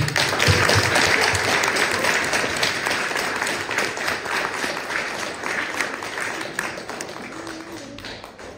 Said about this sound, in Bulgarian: С бурни аплодисменти да посрещнем господин Християн Миланов